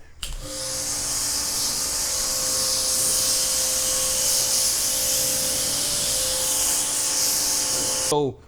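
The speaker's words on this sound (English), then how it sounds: "I'm gonna spray this off." A pressure sprayer blasts water off a car in one continuous, loud hiss lasting several seconds, then cuts off abruptly.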